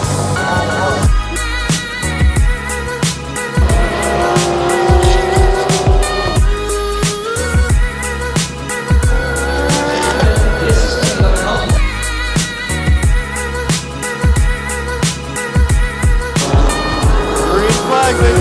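GT race cars at a GT World Challenge America event, engines roaring loudly and continuously as several pass close by, with rising and falling pitch from shifting and acceleration, and a faint voice briefly audible underneath.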